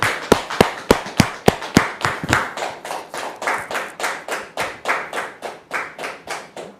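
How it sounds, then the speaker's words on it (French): Rhythmic audience applause, loud and evenly paced, with a few sharp distinct claps at first, then a steady beat of many hands together. "Dame Hélène, sous vos applaudissements, s'il vous plaît."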